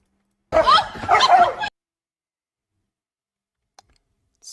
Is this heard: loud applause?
no